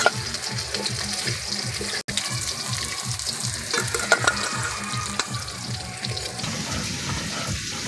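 Pieces of pond-raised pangas fish frying in a wok until reddish, a continuous close sizzle with rhythmic low thumping and a single sharp click early on, no talking.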